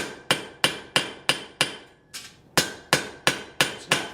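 A blacksmith's hammer strikes hot steel on an anvil while forging a tripod, landing about a dozen loud, ringing blows in a steady rhythm with one brief pause partway through.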